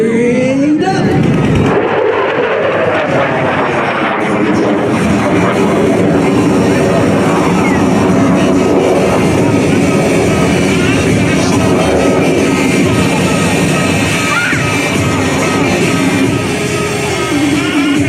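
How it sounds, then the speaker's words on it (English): USAF Thunderbirds F-16 climbing straight up at an air show: a loud, sustained jet roar fills the whole stretch, heavy and rumbling, with a voice talking over it. "Major Tice will demonstrate the exceptional climbing performance of the F-16 as he climbs straight up."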